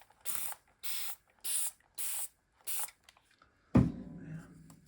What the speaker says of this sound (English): I think I also want to spray this here